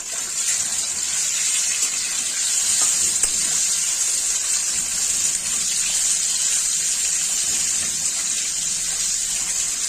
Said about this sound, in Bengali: এইভাবে উল্টে পাল্টে ভেজে নিতে হবে মাছগুলোকে।